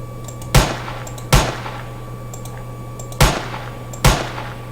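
Four sharp gunshots from a 3D gun mod in Minecraft ring out in an irregular pattern, each a loud crack with a short decaying tail over a steady background hum.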